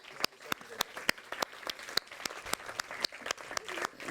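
Light, sparse applause at a workplace mobility challenge award event, separate distinct claps at a fairly regular pace, fairly quiet, with faint crowd murmur behind.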